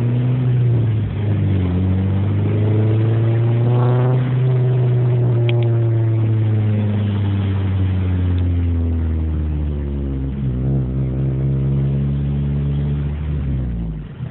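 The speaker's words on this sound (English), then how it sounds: "I'll rev it up for you guys just so you can hear it in neutral" Honda Civic Si, 2007, with a Borla exhaust, revving in neutral: the engine note climbs and falls repeatedly with rising harmonics, loud and steady for the whole stretch, with no talk over it.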